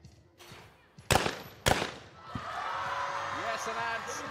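Two loud, sharp shotgun blasts about half a second apart at a men's skeet final at the ISSF World Cup in New Delhi, followed by rising crowd applause and cheering from the home supporters.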